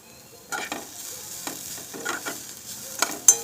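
Vegetables fry softly in a pan for egg soup, a low sizzle punctuated by repeated scraping and clattering stirs of a spatula, growing busier toward the end.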